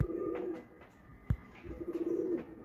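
Pigeons coo in two soft, low rolling phrases, close but quiet, with a single sharp knock between them and no talk.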